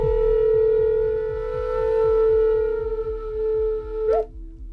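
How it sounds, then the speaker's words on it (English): A Native American triple flute with three chambers holds one steady breathy note, its pitch bending slightly near the end, over a low pulsing drone, loud and close. "It's also a Native American flute, but it's a triple flute."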